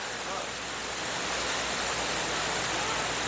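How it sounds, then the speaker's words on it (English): A small waterfall in the Philippines pours steadily into a pool, a dense, unbroken rushing roar that fills the clip, close and loud with no break. "There's another little waterfall leading into that waterfall."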